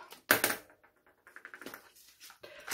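A clear plastic bag holding a diamond painting toolkit is opened, giving a sharp crackling rustle at the start and then scattered light plastic crinkles and taps close by.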